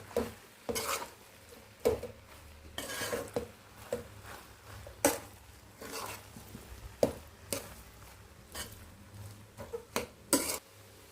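A spoon stirring tomato rice with masala in a metal pot, with irregular scraping strokes and sharp clinks against the pot's sides, repeated throughout at moderate loudness.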